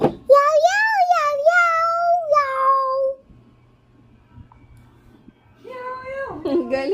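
A child repeatedly imitates a cat's meow, voicing a run of drawn-out, rising and falling mews close up, then a pause of near silence before the meowing resumes.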